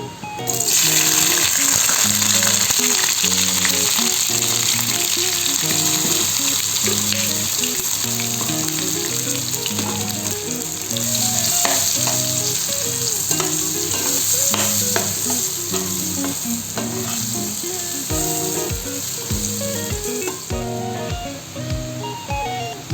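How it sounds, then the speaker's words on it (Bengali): Steady loud frying sizzle of potatoes in oil throughout, with scraping and clattering of a utensil stirring in the pan, and a run of sharp taps near the end. "এখন আমি এই তেলের মধ্যে আলুগুলোকে ভেজে নেব"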